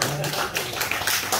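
Crowd applause at a reporters' team get-together for a small-business news outlet, a dense, steady wash of clapping with some crowd noise mixed in, lasting the whole moment.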